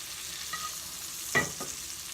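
Butter sizzles over filet mignon sautéed with garlic and herbs in a pan, producing a steady close frying hiss with a brief louder spatter and a soft utensil clink.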